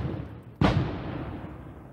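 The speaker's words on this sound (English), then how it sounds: "Two flashbangs. Wow. Gets me every time. That just woke up the neighborhood." A flashbang grenade detonates during an early-morning police SWAT operation in Albuquerque: one sudden, loud, sharp blast that rolls into a long, fading rumble against steady background noise.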